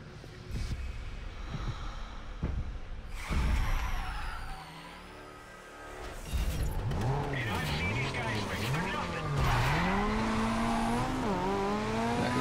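Race cars drift through an event in Need for Speed Carbon, engines revving and rising and falling in pitch with tire squeal, loud and close, while a person talks over the action.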